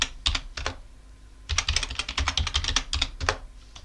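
A password is typed on a computer keyboard during an Arch Linux setup inside a virtual machine: a few close clicks, a short pause, then a rapid run of crisp keystrokes.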